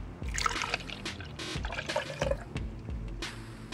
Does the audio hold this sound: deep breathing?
no